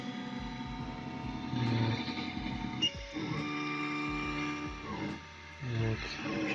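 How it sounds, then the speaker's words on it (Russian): A 3D printer starts printing after its extruder and heated bed warm up, its stepper motors whining in sustained tones that change pitch as the moves shift, with brief pauses and bursts of motor noise. "Пошла печать."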